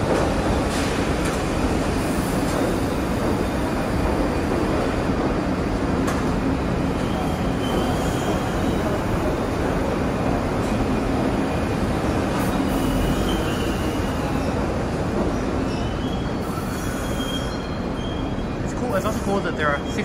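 An R62A S shuttle subway train at the Times Square–42nd Street station rumbles loudly and continuously up close, with metallic wheel squeal and clatter rising near the end and faint voices mixed into the din.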